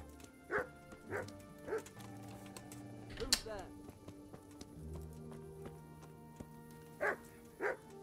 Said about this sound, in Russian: собака лай поднимет